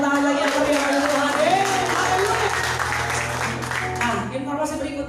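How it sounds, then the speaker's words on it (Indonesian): A church congregation at a Sunday service claps loudly and steadily for several seconds, a full room of applause with a voice speaking over it. "kasih tepuk tangan lagi yang meriah bagi Tuhan"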